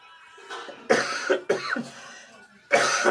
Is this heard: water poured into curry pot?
no